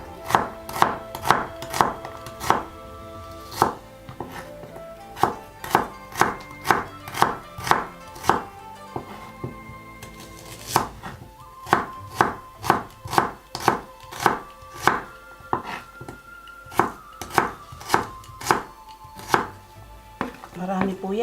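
Onion being chopped with a knife on a board, a long series of crisp rhythmic knife strikes in quick bursts, clear and close.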